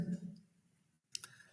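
Computer mouse clicks while working in SPSS statistics software, a couple of quick faint clicks after a short stretch of talk.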